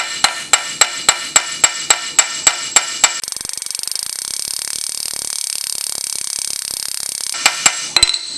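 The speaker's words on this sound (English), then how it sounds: "it's very important that your hammer strike is nice and flat and flush" Hammer striking sheet metal, with ten evenly spaced ringing blows, then a stretch of rapid rattling metallic chatter, then a few final loud strikes. Everything is loud and close.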